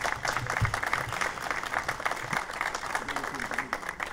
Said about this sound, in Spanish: Un aplauso para él, que lo tenemos aquí.